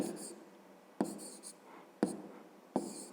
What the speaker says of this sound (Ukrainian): І тепер записуємо відповідь.